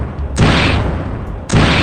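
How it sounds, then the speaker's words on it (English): Two loud, booming gunshot sound effects fire during an online game show, each a sharp burst that rings out and sustains before cutting off, roughly a second and a half apart. "I've been spamming the gunshots."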